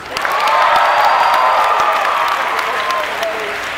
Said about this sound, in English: Can I have one more round of applause for Teddy, please?